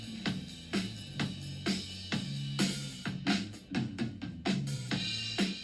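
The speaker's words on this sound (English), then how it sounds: "So originally this bass fill was at the start of the song, and it sounds like this." A bass guitar fill in a song plays within a full band mix, rhythmic low notes weaving between punchy drum hits at a moderate level, with no talking.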